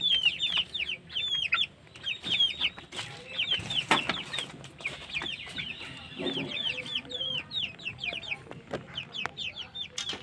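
Chickens cluck repeatedly at close range in a coop, with short, rapid, overlapping calls. Faint background rustling runs under them, and there is no speech.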